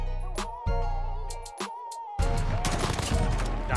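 Gunfire in a Call of Duty esports Search and Destroy match: a few sharp shots in the first half, followed by a dense burst of rapid fire, with no talk.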